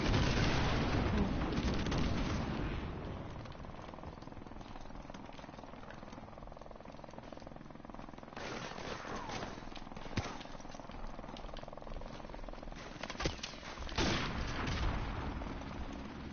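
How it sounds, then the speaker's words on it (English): Friendly airstrike explosions in Modern Warfare Remastered rumble as a series of heavy booms. The strongest burst comes at the start, followed by dull blasts and crackling under continuous game noise. "Friendly airstrike on the way."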